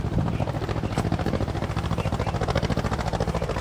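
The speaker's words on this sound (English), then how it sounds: "we're going to miss the chopper, he's over there" Helicopter flying nearby at an outdoor craft beer festival, its rotor giving a loud, steady rapid thudding throughout with no talk over it.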